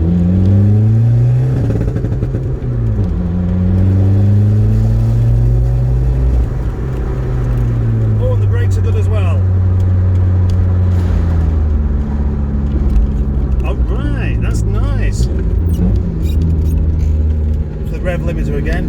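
Modified VW Polo engine revving hard and bouncing off the rev limiter during a test drive, loud and close with the pitch repeatedly climbing and falling through the whole stretch.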